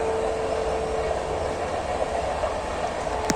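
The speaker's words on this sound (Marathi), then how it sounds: "ही तुम्हाला दिसते का, ही रेल्वे जाते" A train rolls past near a cafe in South Goa, a continuous loud rumble with a steady whining tone running through it.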